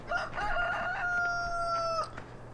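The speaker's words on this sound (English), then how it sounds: "Of course, we got our chickens." A rooster in the Farming Simulator 2013 barnyard gives one clear, drawn-out crow lasting about two seconds, with faint clucking from chickens around it, at moderate loudness and with no talking.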